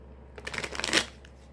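A deck of tarot cards gets a brisk riffle shuffle, close and fairly loud: a quick rattling flutter of about half a second that ends in a sharp snap.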